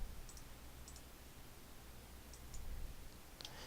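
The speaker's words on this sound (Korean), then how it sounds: "다시 F12를 눌러주세요" Faint, crisp clicks of a key being pressed repeatedly on a computer keyboard, several taps spaced out over a quiet room hum.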